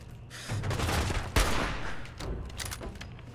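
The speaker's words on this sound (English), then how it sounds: "I think he's shooting with his bare hands." Gunfire in the video game Fallout 4, a continuous burst of rapid shots with a sharp, louder crack about midway, steady and fairly close throughout with no talking.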